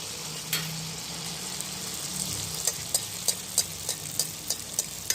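Malpua batter frying in hot oil, a continuous close sizzle with a rhythmic series of light ladle taps and splashes as oil is spooned over the top.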